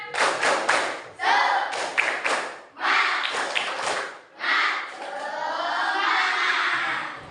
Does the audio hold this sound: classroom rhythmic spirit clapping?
yes